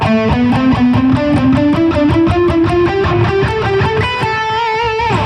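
Short stepwise melodic phrases climb gradually higher, note by note, with a bright, slightly distorted electric tone, played steadily without any talking.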